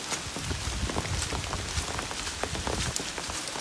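Heavy rain drums on a wet forest trail along the Appalachian Trail, a dense unbroken roar of close droplets with frequent sharp splashes throughout, no one speaking.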